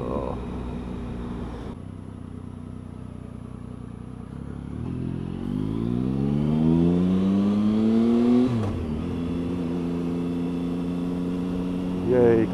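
Car engine accelerating to overtake a bus, revving up steadily with rising pitch before a gear change and settling into a steady cruise, heard from inside the vehicle.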